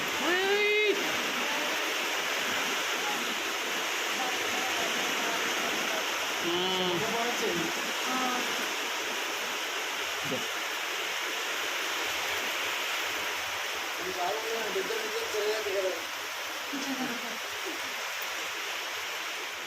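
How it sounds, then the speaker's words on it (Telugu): A sudden heavy downpour falls from dark, cloud-covered skies, producing a steady, dense rushing hiss throughout while someone talks intermittently over it. "అసలు వర్షం అయితే ఒకేసారి సడన్గా మామూలు వర్షం కాదు"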